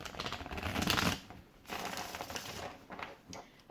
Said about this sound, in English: I'm gonna give it another shuffle.